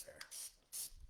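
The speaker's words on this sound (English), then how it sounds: "But I am going to spray some Lysol." A can of Lysol disinfectant aerosol gives two short hissing bursts close by, with a brief pause between them.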